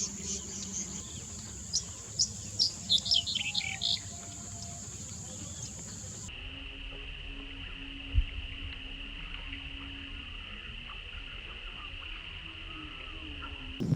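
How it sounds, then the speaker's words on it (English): Black-headed buntings migrating in India give high, thin calls, with a brief cluster of chirps early on, then a steady insect-like drone over faint rustling background. "observe thousands and thousands of these black-headed buntings in migration"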